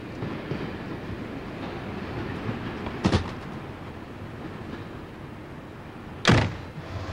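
Steady low rumble of a train with a continuous rolling hiss, broken by two sharp clunks a few seconds apart, like doors or couplings.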